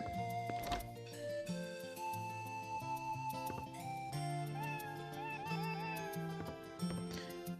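An in-game cat meows from Wild Arms 3 on the PS2, several short mewing calls set over continuous melodic game music that fills the whole stretch.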